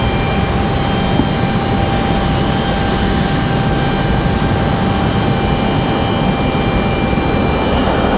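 C-130 aircraft engines running at Raleigh-Durham International Airport: a steady, loud, droning roar with sustained whining tones, unbroken for the whole stretch and with no voices over it.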